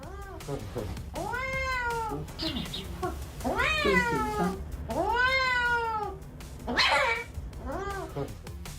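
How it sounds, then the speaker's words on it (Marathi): A frightened cat being vaccinated by a veterinarian lets out a series of loud, drawn-out meows, about six wailing calls close by, with brief pauses between them. "पशुवैद्यकीय अधिकारी या मांजराला वॅक्सिन देत आहेत म्हणजे लस देत आहेत"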